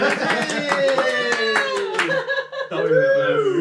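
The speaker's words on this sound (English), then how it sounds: "Do we clap?" A small group claps for a band as they are introduced, a brisk burst of close hand claps over talking, a chuckle and sustained tones, thinning out toward the end.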